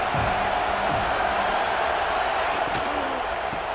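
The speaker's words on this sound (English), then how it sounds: "Decibels rising as the crowd gets behind this defense on 3rd down." Stadium crowd noise from a college football video game on a third-down defensive stand, a dense, steady roar filling the whole clip with no clear voices.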